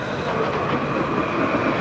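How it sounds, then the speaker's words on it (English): A Paris tram rolls past on a street walk near the Palais de Justice, a loud, steady rumble and rail hiss close by that holds for the whole stretch with no talk over it. "So this is what the tram looks like. You see it coming by."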